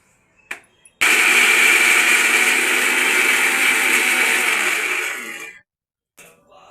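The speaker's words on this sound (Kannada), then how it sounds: "ನೆನೆಸಿದ ಕಡಲೆ ಬೆಳೆಯನ್ನು ಕೂಡ ಸಣ್ಣಗೆ ರುಬ್ಬಿಕೊಳ್ಬೇಕು" A mixer grinder grinds soaked chana dal for vade, a loud steady whir lasting about four and a half seconds after a couple of brief clicks, then cutting off, with a short faint noise at the end.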